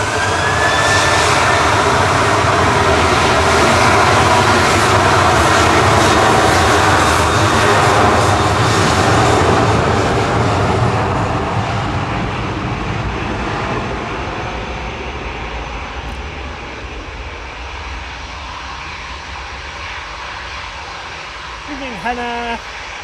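Jet airliner departing Manchester Airport, a loud sustained engine roar that slowly fades as the plane climbs away, heard outdoors from a distance.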